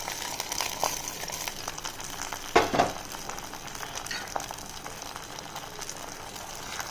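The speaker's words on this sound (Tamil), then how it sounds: "இப்போ நம்ம காஞ்ச திராட்சை ஆட் பண்ணிக்கலாம். அதையும் நல்லா வறுத்து எடுத்துக்கலாம்." Dried grapes (raisins) roasting in a hot pan for sugarcane juice pongal, giving a steady close sizzle with a few brief stirring scrapes near the middle, and no talk.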